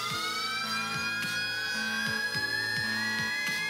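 A loud alarm siren in the video game Limbus Company blares continuously through a cabin, steady and piercing, with a repeating lower electronic tone pattern pulsing beneath it; no voices.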